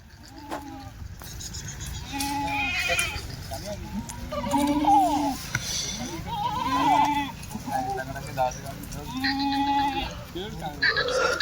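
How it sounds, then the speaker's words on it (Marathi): Kathiawadi goats bleating repeatedly in a group, wavering calls overlapping at close range over a steady rumbling background, with someone talking throughout. "सगळ्या एकदम चमकच्या शेळ्या आहे मित्रांनो"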